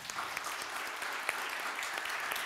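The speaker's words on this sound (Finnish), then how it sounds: "Annetaan aplodit keskustelijoille." An audience applauds panelists at a panel discussion, with steady, dense clapping at moderate distance that holds evenly throughout without a break.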